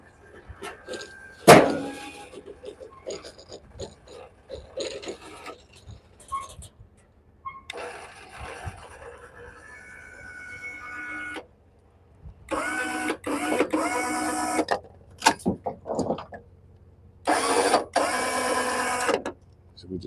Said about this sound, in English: Letting it on down with the winch.